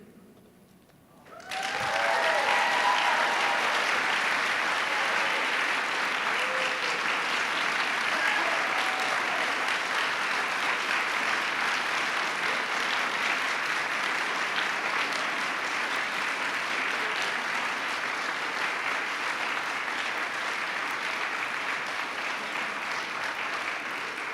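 An audience at a city attorney swearing-in ceremony in San Francisco breaks into applause after a song. Steady, dense clapping starts suddenly and holds at an even level for over twenty seconds.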